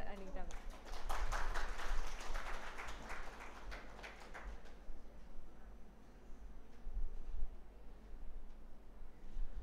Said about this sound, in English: So, everyone please put a huge round of applause for Dr. Anita ma'am